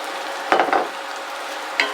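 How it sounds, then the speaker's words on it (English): Peppers go into a hot pan with garlic and sizzle steadily, broken by a few short scraping bursts as they are stirred, close up with no talking. "I want to go ahead and add my peppers"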